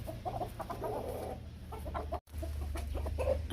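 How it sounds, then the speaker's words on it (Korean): Several hens fight over pecking order, clucking and squawking agitatedly at a distance, a busy, continuous commotion over a low outdoor rumble, with one brief dropout. "암탉들의 서열 싸움이 엄청나네요."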